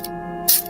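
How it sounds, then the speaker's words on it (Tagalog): Perfume sprayed onto a hand and neck: a single short, soft hiss of mist, close and alone. "tatry kong mag-spray dito sa kamay at lieg ko"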